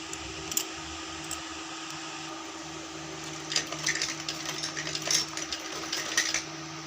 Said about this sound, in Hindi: देखिए, किनारे किनारे पे हमें सिलाई लगानी है।